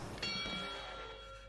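A boxing round bell rings once in an anime fight scene, a sharp struck clang that hangs and slowly fades over about a second and a half, fairly faint with no talk over it.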